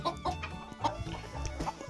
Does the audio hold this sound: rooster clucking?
yes